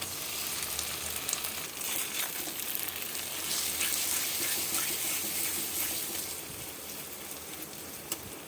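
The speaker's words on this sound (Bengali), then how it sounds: "এবার সজনে পাতা বাটাটা আমি দিয়ে দিচ্ছি" Ground moringa leaf paste sizzling in a frying pan: a soft, steady broadband hiss with faint crackles throughout and no voices.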